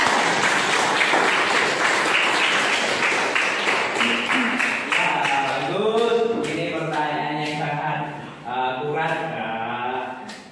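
Students in a classroom applauding after a group presentation, a short burst of clapping that fades as a voice begins speaking over it.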